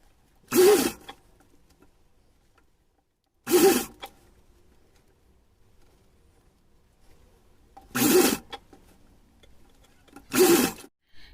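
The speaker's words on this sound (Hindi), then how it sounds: "यदि फैब्रिक हमारा थोड़ा चौड़ा ज़्यादा है तो उसे एक बार फोल्ड करके इस तरीके से रख के ये सिलाई लगा लेंगे किनारे किनारे।" Four short, separate bursts of a sewing machine stitching along a folded fabric edge for a small deity's dress, close and clear with quiet gaps between them.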